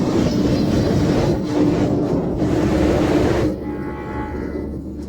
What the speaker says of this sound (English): I installed the high-flow air filter and did a dyno run.